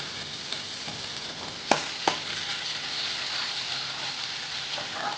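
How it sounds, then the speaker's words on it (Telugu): Ginger fries in hot oil with turmeric for a gravy of black chickpeas, giving a steady close sizzle. Two sharp clicks stand out briefly in the middle of the frying. "దీన్ని కొద్దిగా ఒక 1 minute ఫ్రై చేసుకుందాం"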